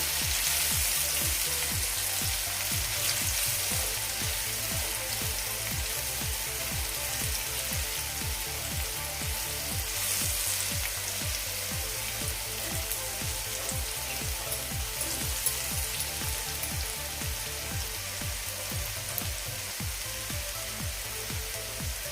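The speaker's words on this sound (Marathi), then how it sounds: "आता आपण हे मसाले व्यवस्थित मिक्स करून घेऊयात एक दोन मिनटं परतूयात तेलामध्ये" Spices and Kashmiri red chili sauté in oil, producing a dense, continuous sizzle and crackle at close range. Soft regular thumps run beneath it throughout, with no talking.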